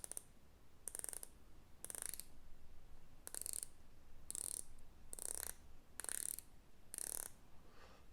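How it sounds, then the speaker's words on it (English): A Depth Charge DB106631 automatic watch with a 90-click ceramic bezel is turned by hand. Eight crisp, close ratcheting click bursts come at roughly one-second intervals over a quiet background. "The bezel type is a ceramic bezel, and it's a 90 click bezel, unfortunately, but I'll let you listen to the clicks."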